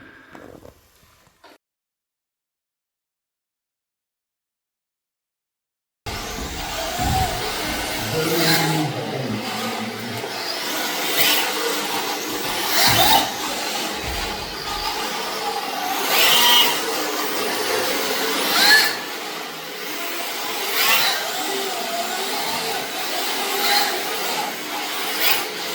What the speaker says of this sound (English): you're looking at a 1/10 scale RC drift trike, a reverse trike with one wheel in the back and two in the front